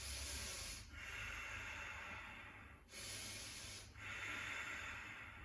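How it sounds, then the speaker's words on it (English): Slow, deep breaths through the nose during a yoga balance pose, close and airy, with about three long inhale and exhale cycles and short pauses between them. "Inhale, exhale. We're going to try for 3 full deep breaths."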